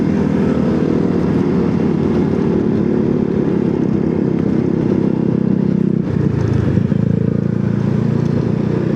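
A group of about 15 motorcycles rides along a mountain road, their engines merging into a continuous loud drone with a shift in pitch partway through, close and steady with no voices.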